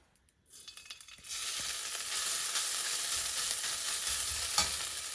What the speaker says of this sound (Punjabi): ਹੁਣ ਮੈਂ ਗੈਸ ਨੂੰ ਜਮੇ ਹੀ ਡੈਮ ਕਰਕੇ ਭੁੰਨੂਗੀ